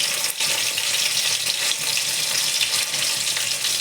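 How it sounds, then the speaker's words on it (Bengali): Lote fish pakoras frying in hot oil while being stirred, a loud, dense, continuous sizzle close up with faint scraping of the stirring, no voices. "একটু টুকিট করে একটু বেশ নাড়িয়ে নাড়িয়ে একটু করবে"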